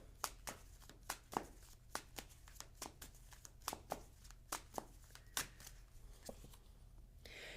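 Tarot cards being shuffled and drawn, a steady run of quick crisp riffling snaps and flicks at close range, fairly soft, over a low constant hum with no talking.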